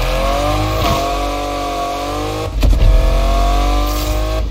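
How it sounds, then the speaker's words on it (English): A tuned car engine in the racing game NFS Unbound revs steadily with harmonic whine, then surges louder in a sharp burst of acceleration near the end, loud and close with no talk. "Yo, do you hear the engine?"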